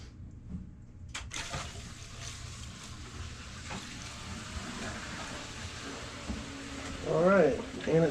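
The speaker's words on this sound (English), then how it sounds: "What you're hearing right now is all the water going back through the softener system" Well water rushes back through the lines of a Kinetico softener system after a pressure switch replacement, a steady low hiss and flow with a sharp knock early on and a surging gurgle near the end.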